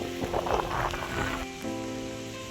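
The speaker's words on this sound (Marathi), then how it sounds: "मस्त पावसाच्या सरी पडतात" Rain showers fall steadily in a wash of patter in the Konkan in May, with a low droning hum running underneath.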